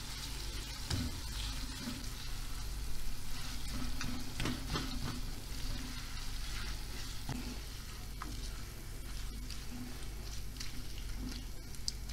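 Minced meat frying with onions in a pan for a zucchini and mince dish, a steady close sizzle with stirring scrapes and small pops running throughout, no voices.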